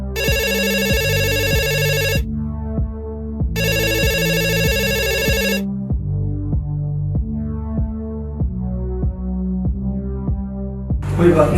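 A phone ringtone repeats in loud bursts with pauses between them, an unanswered call ringing on over a steady rhythmic throbbing beat.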